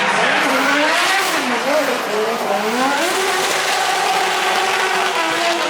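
BMW E46 fitted with a 2JZ engine drifting at a street race event in Ostrava, a loud sustained engine roar with squealing tires and rising and falling revs, under continuous commentary.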